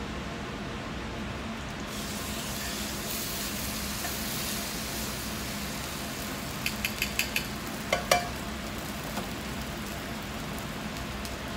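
A coffee-rubbed ribeye steak sizzles steadily on a grill at a state fair cooking demo after being flipped, with a constant crackling hiss and a few sharp metallic clicks near the end.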